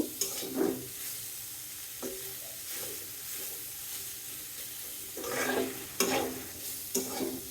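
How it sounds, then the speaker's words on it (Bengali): Oil sizzles steadily as bitter gourd fries in a pan, with intermittent scraping and stirring clatters of a spatula, close by and moderately loud. "উস্তা ভাজি করছি"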